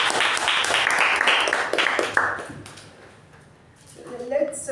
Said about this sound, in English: Big round of applause to DTM U Bhat.